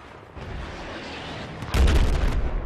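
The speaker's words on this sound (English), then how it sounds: "OTV missile into Delta building" A video game missile slams into the Delta building during a scrimmage, a low heavy boom that bursts in loud and close after a stretch of rumbling battle noise, with the blast rolling on to the end.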